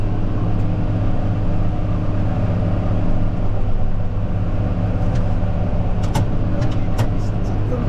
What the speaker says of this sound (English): This tractor is a beast.